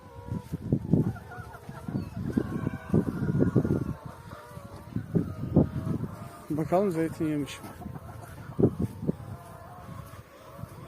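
Chickens on a muddy farm cluck and murmur in short repeated calls close by, with one louder squawk partway through, while a person speaks over them.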